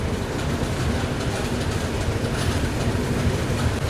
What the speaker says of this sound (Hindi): Bing major junction railway station यहाँ पे ये ट्रेन 5 मिनट का हॉल्ट लेती है।